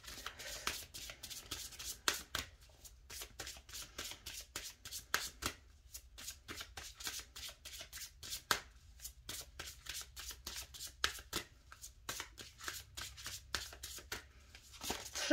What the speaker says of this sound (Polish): słuchajcie, tasuję karty i zapraszam bliźnięta